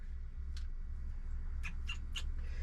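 A cat inside a camper van gives a few faint, short chirping meows, one alone and then three in quick succession, over a low steady background hum.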